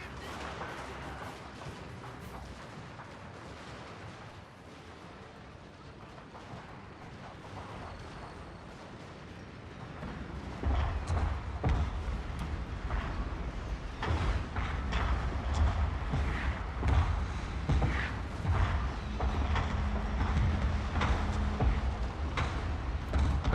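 Samurai-era artillery in Total War: Fall of the Samurai pounds infantry with repeated heavy booms and crackling gunfire, growing louder and denser after about ten seconds, with no talk over it.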